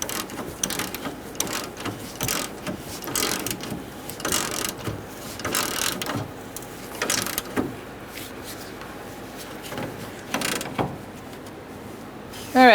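Ratchet fitted with a 13mm socket tightening bolts on a Subaru Forester radiator, loud, close bursts of rapid clicking in short repeated strokes separated by brief pauses.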